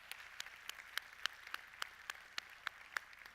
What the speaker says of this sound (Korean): 하나님께 큰 영광의 박수 함께 올려드렸으면 좋겠습니다